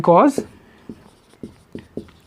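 Marker or chalk taps and scratches on a board come in a few short separate strokes, close and clear, right after a brief burst of speech.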